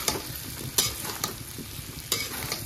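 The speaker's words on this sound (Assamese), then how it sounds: "আৰু ইয়াক একদম ধুনীয়াকৈ অকণমান ভাজি ল'ম" An egg and soybean mixture sizzles steadily in a pan on a gas flame, broken by several sharp scraping stirs at irregular moments, with no voices.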